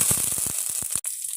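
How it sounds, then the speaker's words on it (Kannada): Mustard seeds, cumin and curry leaves sizzle in hot tempering oil for a drumstick-leaf sambar, a steady close hiss with a few quick crackling pops, no talking. "ಒಗ್ಗರಣೆಗೆ ಸಾಸಿವೆ ಜೀರಿಗೆ ಎಲ್ಲ ಒಗ್ಗರಣೆಗೆ ಹಾಕೋದು"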